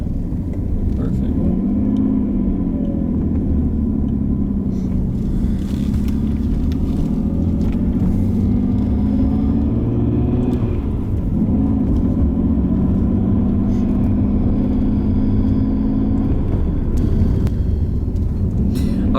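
A right-hand-drive 1991 Nissan Skyline R32 GTS-T driving on the road: a steady in-cabin engine drone that climbs through two long acceleration pulls with a gear change between them.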